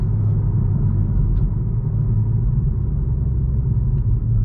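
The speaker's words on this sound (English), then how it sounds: "We're just driving in normal mode right now, not in sport mode or anything." A 2021 Toyota Supra cruises in normal mode, heard from inside the cabin as a steady, even low rumble of engine and road noise with no voices.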